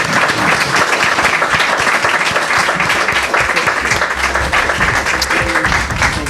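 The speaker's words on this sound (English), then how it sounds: "Can we give both our candidates a round of applause," Steady, loud applause from an audience at a legislative district candidate forum, dense clapping sustained throughout without a break.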